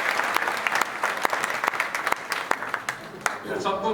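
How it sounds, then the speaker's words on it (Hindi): Audience applause at a Purushottam Maas katha gathering in an ashram in Burhanpur, heard close as a dense burst of many hands clapping for about four seconds before it thins out at the end. "तो इसके लिए विशेष रूप से ताली"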